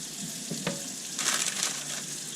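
Bacon fries in a pan in a close, bright crackle and sizzle, with a couple of sharper pops and a louder spattering swell midway through the short stretch.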